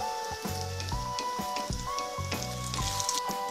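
Raw banana koftas frying in hot oil give a steady, close sizzle with crackling bursts, with a few faint clinks over it.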